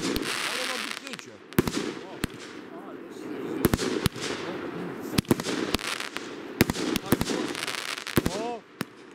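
Pyrotechnics set off indoors or nearby during a shop trip in Piła: repeated sharp, loud cracks and bangs at irregular intervals over a constant crowd murmur, with people talking throughout.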